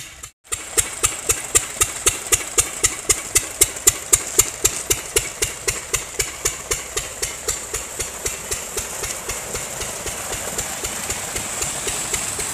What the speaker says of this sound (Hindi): मैं तुम्हें इंजन भी दिखा रही हूँ।